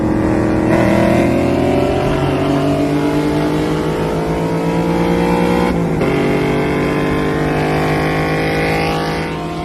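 A loud, strained race car engine drone losing compression mid-race, with shifting tones that sags and wavers, briefly interrupted by a sharp burst before continuing unevenly.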